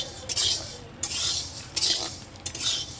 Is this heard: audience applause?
no